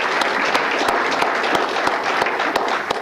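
An audience at an employee recognition awards ceremony applauds, a steady wash of clapping with a few louder individual claps standing out near the microphone.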